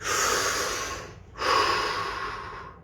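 A deep breath taken during a guided relaxation: a long, close, airy inhale, a short pause, then a long full exhale, both loud and breathy with no talking.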